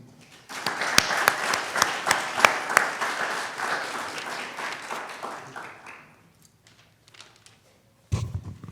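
Lecture-hall audience applauding to welcome a speaker named David Kertzer, a warm burst of clapping with a few sharp claps standing out, swelling then fading out by about six seconds, followed by quiet room noise and a brief thump near the end.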